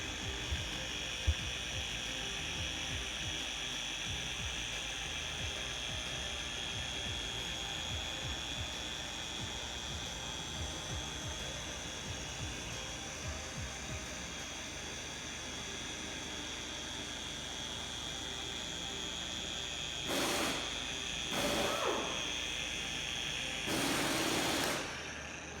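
Car polishing machine with a firm polishing pad buffing the paint of a brand-new Subaru: a steady, high whining drone for about twenty seconds, then a few louder surging bursts near the end.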